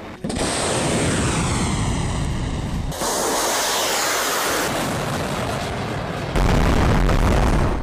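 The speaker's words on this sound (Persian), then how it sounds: "در رزمایش امروز موشک‌های قدرتمندی به سوی اهداف فرضی شلیک شد" Powerful missiles launched at targets during a naval military exercise, heard as a loud, sustained roaring rush that fills the space, briefly shifts, and surges even louder near the end.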